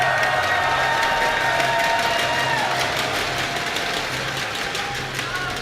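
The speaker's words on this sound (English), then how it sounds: "Crowd has so much energy, they're just doing the clap down because they can." Large esports arena crowd at a StarCraft II WCS grand final claps together in a steady rhythm, a loud roaring arena ambience with continuous cheering noise throughout.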